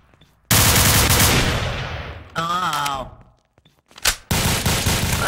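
Loud gunfire in Garry's Mod, a sustained burst that gradually fades, then a brief voice, a sharp single shot and another burst to finish.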